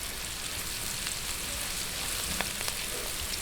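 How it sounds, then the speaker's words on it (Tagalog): Onion frying in a pan for a Filipino creamy carbonara, a steady broadband sizzle with faint crackles and pops running throughout, fairly soft and without talk. "unahin po natin yung sibuyas para po yung garlic ay hindi masyadong mag-dark brown."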